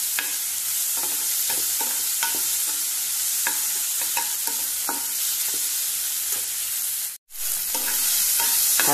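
Onion and fresh coriander sizzle loudly in a pan for a Goan egg curry while a spoon scrapes and stirs in regular strokes, the hiss breaking off for a moment before resuming.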